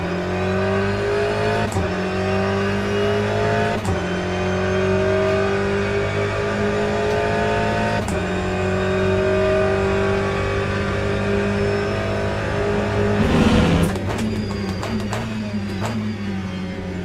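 An Aston Martin GT3 race car in the Le Mans Ultimate racing game holds a steady, droning engine note that rises and falls gently through gear changes, loud and continuous, with a brief rough burst near the end.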